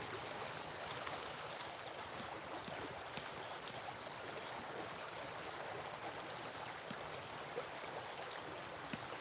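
River water flows steadily around someone bathing in a village river in the morning, a continuous broadband rush and splash, close and even throughout with no voices.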